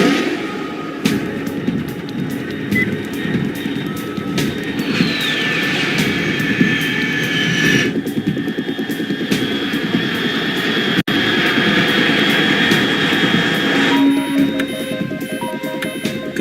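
Jet aircraft engine roar in the stealth action game Metal Gear Solid 3: Snake Eater, a steady loud drone with rising whine tones across the whole stretch, ending with electronic beeps.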